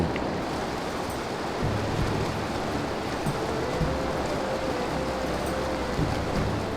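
Steady rushing mountain river flows continuously, a dense broadband roar without breaks, with no voices.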